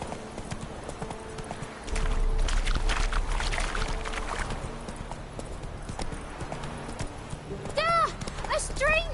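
Roach the horse galloping in The Witcher 3 video game, a steady rapid clip-clop of hooves heard up close under game music, with some voices speaking over it.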